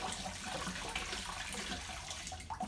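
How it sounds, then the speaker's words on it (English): Water sloshes and swirls inside a glass demijohn during cider making. The churning is faint and continuous, and no voices are heard. "Any bottles and demijohns, if you can, give it a bit of a twist and create a little whirlpool."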